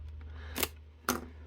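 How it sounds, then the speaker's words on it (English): Scissors slicing open the shipping package of a Harder & Steenbeck airbrush, two sharp, brief snips about half a second apart over a low steady background hum. "let's go ahead and slice this bugger open and see what we got here"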